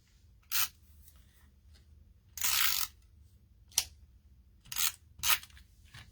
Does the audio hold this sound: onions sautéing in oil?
no